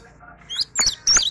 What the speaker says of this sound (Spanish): Dos pájaros discutiendo fuera de la jaula.